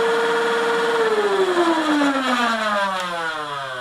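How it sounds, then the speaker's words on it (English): A Nerf blaster flywheel, fitted to a radio-controlled A-10 model, whirs loudly and close, its motorized whine sliding steadily down in pitch. "So one arms the flywheel, so it revs them up."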